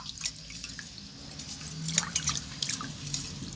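Fish being washed by hand in water in a home kitchen, giving soft drips and small splashes of running water that trickle steadily at close range, with no talking.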